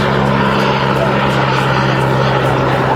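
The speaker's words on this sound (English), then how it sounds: "so it's a piston engine helicopter" A Westland Wasp piston-engine helicopter at the Herne Bay Airshow drones loudly and steadily, its rotor beating with a rapid pulsing chop throughout.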